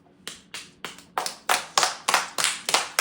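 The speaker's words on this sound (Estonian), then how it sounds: "Aplaus." One person claps their hands in a steady series of about ten loud, close claps, getting somewhat louder as they go, with no talking.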